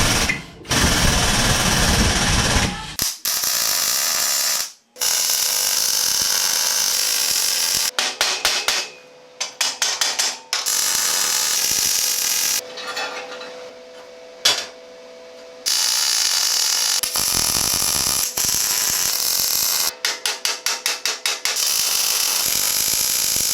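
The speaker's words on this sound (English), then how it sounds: "Let's cut this thing out on the CNC plasma and stick it together." A CNC plasma cutter slicing steel plates, a loud continuous hissing roar broken by short pauses and bursts of rapid clicking, with no talk over it.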